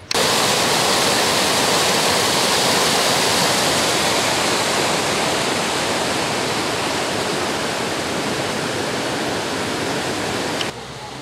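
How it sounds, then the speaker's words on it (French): Water pouring steadily through the channel of a watermill at a mill open day, a loud, continuous broadband rush like a small waterfall, close by and unbroken for the whole stretch, cutting off abruptly near the end. "Donc ça, c'était une arrivée d'eau"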